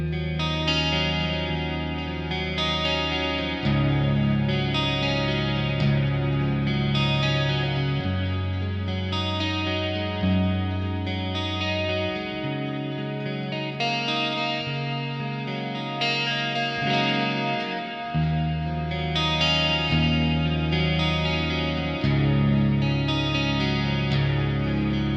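Cort KX300 Etched electric guitar with EMG Retroactive Super77 pickups, played through distortion with a chorus effect, heavy riffs and sustained chords ringing continuously and loud, with no talking.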